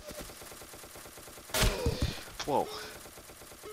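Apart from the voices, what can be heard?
gunfire in the video game Ace of Spades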